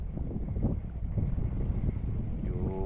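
Strong wind gusts buffet a fishing boat out at sea after the weather suddenly turned rough, a steady loud roar of wind on the microphone with water and hull noise underneath and no talking.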